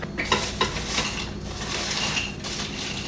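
Crisp, rustling scrapes and light clinks as crispy oven-baked hash browns slide into a bowl, a short dry crackling shuffle close by.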